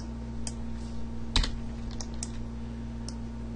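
A computer keyboard is tapped for a shortcut, a few sparse, quiet clicks with one sharper keystroke near the middle, set against a steady low electrical hum.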